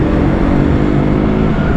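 A KTM Duke 200 motorcycle accelerating hard to overtake on the road, a loud, steady, close engine drone with no speech over it.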